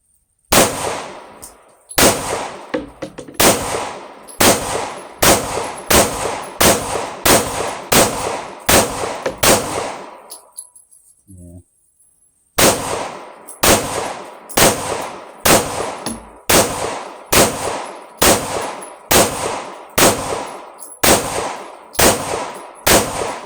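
An M&P 2.0 pistol fed from ETS magazines fires outdoors in a steady string of sharp, loud shots about a second apart, pausing briefly midway for a reload before another evenly paced run resumes.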